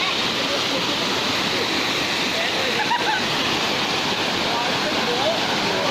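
A natural waterfall roars steadily and loudly, a dense constant rush of falling water with no pauses.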